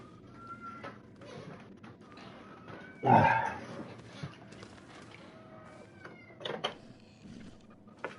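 A cat in the video game GreedFall gives a single loud meow midway through, set over quiet game ambience with scattered faint clicks and thuds.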